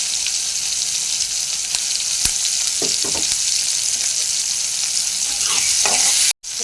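Onion, garlic, curry leaves and coriander fry in oil for a Tamil garlic kulambu, a loud, steady sizzle broken by a few scraping stirs before cutting off abruptly.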